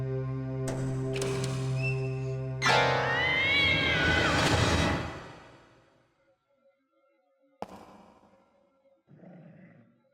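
A ghost boy meows like a cat in the Ju-on: The Grudge video game, with loud drawn-out yowling cries rising in a strained wail, then quieter short meows after a pause.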